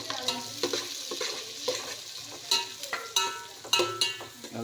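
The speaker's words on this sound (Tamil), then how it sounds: "நல்லா பொன்னிறமாக வர வரைக்கும் வதக்கணும்." Sliced onions fry and sizzle in a pan while a spatula scrapes and stirs them in quick, irregular strokes. The sounds are close and moderately loud, with no voices.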